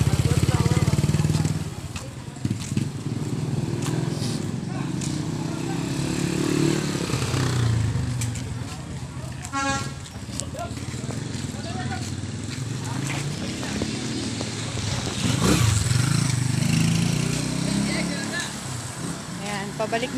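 Motorcycle engines idle and rev at a tune-up shop, a busy mix of engine rumble and background chatter that swells and fades across the whole stretch.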